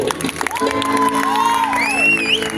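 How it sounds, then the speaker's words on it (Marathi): A Marathi shahiri folk performance audience cheers, whoops and shouts loudly and continuously, with a high whistle-like cry rising over the crowd noise; clapping is hard to pick out within the dense cheering. "हे बरोबर जोरदार टाळ्या होऊन जाते लांबरी बॉस"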